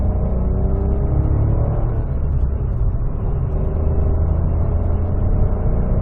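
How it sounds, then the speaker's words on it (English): Suzuki Swift engine pulling hard in second gear from around 2000 rpm at low speed, a steady, loud low rumble and whir heard from inside the cabin throughout. "listen for engine noise in this car with full accelerations"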